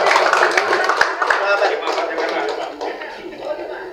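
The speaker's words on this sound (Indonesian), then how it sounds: "Berikan tepuk tangan yang meriah Bapak Ibu sekalian." Applause from an audience at an Indonesian Muslim journalists' national meeting, a burst of clapping that fades over a few seconds, mixed with crowd noise.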